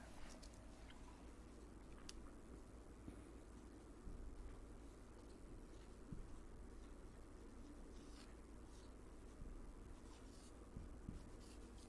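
A pen scratches on paper in quiet, close strokes of handwriting, a soft continuous scrape under a faint background hiss.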